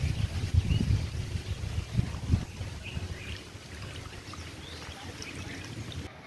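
Water being drained from sorghum soaked three days, with a few splashy pours up front, then a quieter trickling rush.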